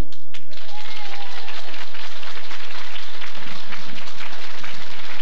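Applause from an audience at a church celebration marking a priest's 35th anniversary in Field, Ontario: dense, sustained clapping filling the room, loud and steady throughout with a faint crowd murmur underneath.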